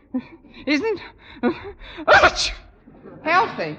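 A single sharp sneeze bursts out midway through a stretch of conversational talk, loud and close against the surrounding voices.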